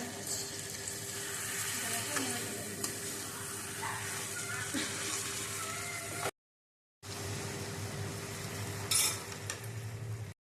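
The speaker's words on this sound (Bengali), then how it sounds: "আলুগুলোকে দিয়ে এবার কষিয়ে নেবো, নাহলে পরে শুকোতে চাইবে না।" Mutton and potatoes fry in a pan, giving a steady, fairly quiet sizzle with occasional stirring scrapes, then a short cut and a louder bubbling clatter near the end.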